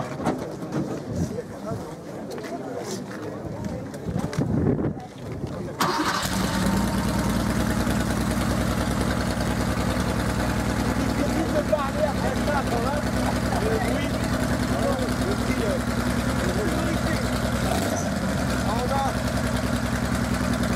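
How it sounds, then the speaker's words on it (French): Porsche 911 SC flat-six idles through a period RSR competition exhaust, starting after a few seconds of quiet and settling into a steady, loud, throaty rumble that runs on under occasional talk. "On va écouter ce moteur quand même."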